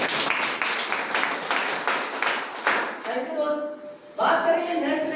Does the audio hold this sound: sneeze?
no